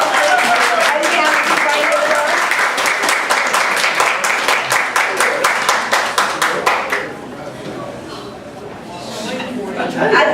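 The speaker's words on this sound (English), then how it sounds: "give Mr. Rick Waugh a round of applause" Audience at a tavern talk event claps in a rhythmic round of applause that fades after several seconds, leaving murmuring chatter and speech underneath.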